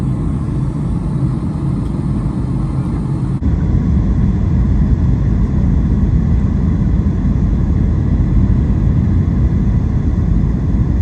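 Loud, steady cabin rumble fills an airliner on its landing approach into Phoenix, a dense low roar of engines and airflow that shifts slightly in tone partway through.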